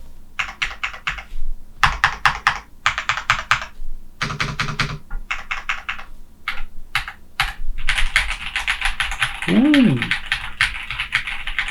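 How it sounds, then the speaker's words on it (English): Fast clicky typing on a Yunzii AL65 mechanical keyboard with Gateron switches comes in bursts of crisp keystrokes close to the mic, separated by short pauses. A brief exclamation from a person is heard partway through. "That's a satisfying click. That's some Gateron switches, man."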